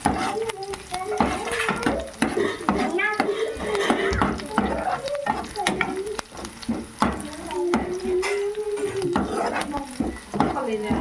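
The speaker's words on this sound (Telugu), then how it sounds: "మిర్చిని కూడా వేయించుకోవాలి." Chillies frying in a pan for chicken fry, a loud steady sizzle with stirring scrapes and clatters, while a person talks over it.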